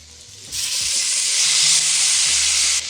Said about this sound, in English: Hear that sizzling? Your pot must always be sizzling.